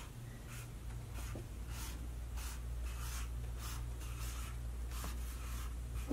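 A marker squeaks and scrapes across a flip chart in a string of short, rhythmic strokes, close and faint, over a low steady room hum with no talking.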